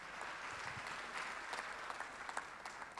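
A church congregation claps together after a sermon, filling the space with a steady, moderately faint wash of applause that holds for several seconds.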